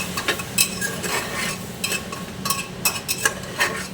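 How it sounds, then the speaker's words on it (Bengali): Aloo matar sabzi with spices being stirred in a pan, giving a string of sharp, close spoon-on-pan scrapes in an uneven rhythm over a low, steady sizzle. "ধনে গুঁড়ো, জিরে গুঁড়ো, পরিমাণ মতো একটু মিষ্টি দিয়ে নাড়তে লাগবে।"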